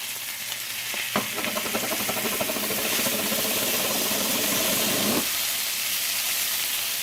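Beaver liver and onions fry in a pan with a steady, close sizzle. A denser burst of stirring and crackling runs through the middle, then eases back to the background hiss. No one speaks.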